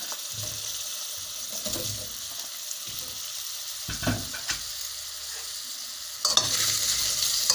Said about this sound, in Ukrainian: Вона теж має трошечки підсмажитися.